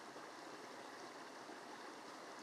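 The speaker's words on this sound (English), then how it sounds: "Hearing that running water," Running water in a forest, a continuous soft rushing stream, steady and unbroken, faint and alone.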